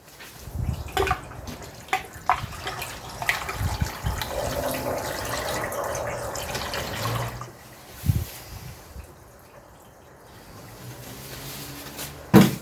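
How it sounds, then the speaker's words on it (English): DEF fluid gurgles through a funnel into a Ram 1500 EcoDiesel, a continuous close liquid pour with a few knocks and handling sounds, easing off toward the end. "The next step is we will fill the DEF fluid."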